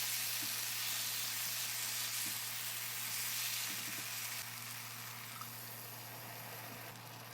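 Taro stolons stirred in a pan of hilsa curry after water has been added, giving a steady soft sizzle and simmer close by, with faint scraping stirs and no talking.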